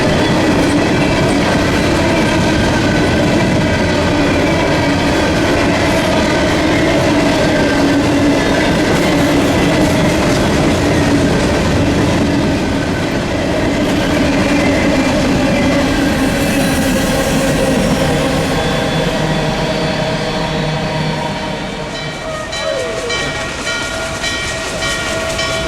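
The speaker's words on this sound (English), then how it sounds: "train 815, which had SD70 Ace number 1030" Norfolk Southern train 815, led by SD70ACE locomotive 1030, rolls steadily past in Southwest Virginia with a loud, sustained rumble of engine and wheels and rhythmic clickety-clack, easing and fading slightly near the end.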